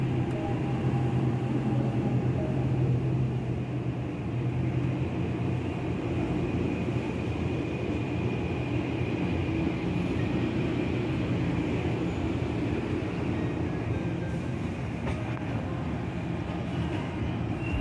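An Arrow 3 train set pulls out of Summit station in North New Jersey toward Gladstone, a loud, steady rumble and rail hum that holds constant with a faint high whine.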